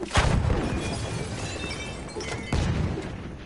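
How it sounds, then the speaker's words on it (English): In a team deathmatch shooter game, a grenade goes off with a sharp blast at the start and a second burst later, both over dense, noisy game sound. "Hearing that explosion going off"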